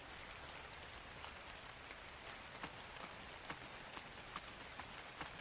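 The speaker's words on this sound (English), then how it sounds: "So apparently this rain's not going to be fake rain anymore too" Rain falls in the video game Ark Survival Ascended, a steady soft patter with scattered sharper drops striking a surface, moderately faint and continuous, no speech.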